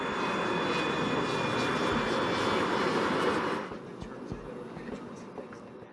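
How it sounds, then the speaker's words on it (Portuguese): The engines of a four-engine Avro 146 regional jet airliner roar loudly and steadily in flight, and the roar drops to a lower, quieter drone partway through. "A tripulação está pilotando um jato regional Avro 146."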